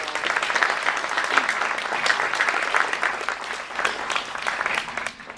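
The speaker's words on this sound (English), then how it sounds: "I think you should give these folks a round of applause." Guests at an employee awards luncheon give award recipients a sustained round of applause: dense, even clapping from a room-sized audience with slight swells and no speech.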